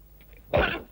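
A single sharp, harsh cough close up, preceded by a faint breathy catch, then quiet.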